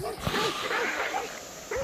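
Dogs bark and yip in the video game Hunt: Showdown, a few short whining yelps heard at mid distance while a person talks over them.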